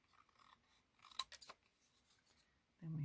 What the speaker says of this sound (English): let's cut this. I'm just going to trim that a little.